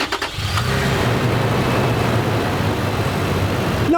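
A Toyota engine cranks briefly and catches, then settles into a steady, smooth idle close by, with no voices over it.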